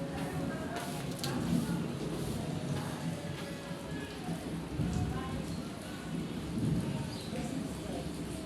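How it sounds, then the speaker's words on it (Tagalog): Steady rain falls outdoors, a continuous hiss and patter on surfaces with low rumbling that may be distant thunder, lasting throughout at moderate loudness with faint voices in the background. "Uuwi na sana kami, umulan pa."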